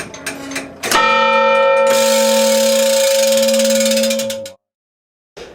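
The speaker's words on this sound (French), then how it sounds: "tout le monde attendait un peu quand même avec impatience que la cloche sonne, qu'elle donne l'heure pour rythmer la vie du village" Village church clock bell ringing, a loud metallic strike followed by a long sustained ringing tone with bright overtones, fading and then cutting to silence.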